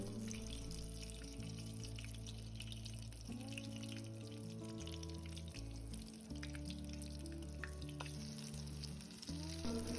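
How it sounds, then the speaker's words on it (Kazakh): Buckwheat cutlets fry in hot oil with a constant crackling sizzle, close and fairly quiet, broken by soft clinks and shuffling of a pan or spatula. "Қызып тұрған майда котлеттерімізді екі бетінен қып-қызыл болғанша қуырып аламыз."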